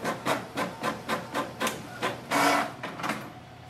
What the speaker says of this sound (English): click on it and you will see print test page